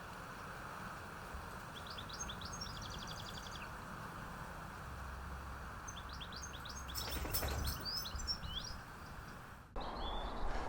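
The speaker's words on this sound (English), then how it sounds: "there's loads of birds at the minute. And there's even a little chaffinch that's been coming down as well" Small birds, including a chaffinch, chirp in a Cornish garden in March, in short twittering bursts that are fairly faint over a steady background hum.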